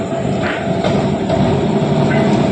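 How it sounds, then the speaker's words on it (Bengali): A Kolkata tram rolls into the tram museum grounds, a loud steady rumble of wheels on rail with faint clanks and squeals near and continuous, with no voices. "ট্রাম প্রবেশ করছে"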